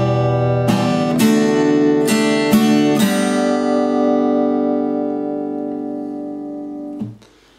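An acoustic guitar strums a short phrase of a chord pattern, several crisp strokes in quick succession, then the chord rings out and decays before a final muted touch.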